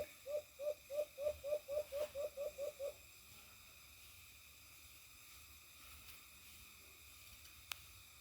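A captive Alimokon dove gives a quick series of about a dozen evenly spaced, soft hooting coos at close range, then falls silent against quiet background noise.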